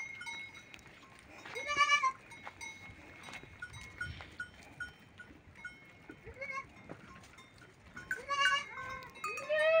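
A herd of goats bleats in a farm setting, with a couple of clear, wavering cries near the start and end over quieter background shuffling and faint clanking.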